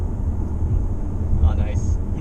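Cabin noise inside a 2020 MINI JCW Countryman while driving: a steady low road and engine rumble with faint higher rattles, under talking.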